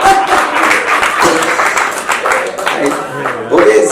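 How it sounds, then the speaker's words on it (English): Audience applause at a talk: dense, steady clapping from a crowd that carries on for about four seconds at an even, loud level. "If everybody clap means they don't have a problem"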